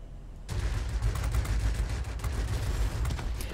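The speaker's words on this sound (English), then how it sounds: "The cannon on the front of this is just blisteringly good." Rapid cannon fire from an I-260 plane in the World of Warplanes video game, a sustained, loud, close burst of thudding shots that begins abruptly and continues without pause.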